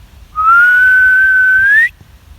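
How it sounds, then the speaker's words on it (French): A single sustained whistle note from a person whistling outdoors near horses, clear and close, held for about one and a half seconds with a slight upward rise at the end, no voices. "Là, je vais essayer de siffler."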